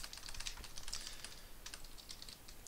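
Quick, light clicking keystrokes on a computer keyboard come in a fast, irregular run while someone types a Mercurial command, close and fairly quiet.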